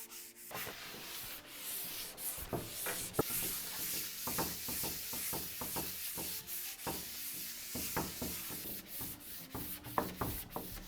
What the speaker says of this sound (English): I'm going to give this a light sand just to smooth out any ridges in the primer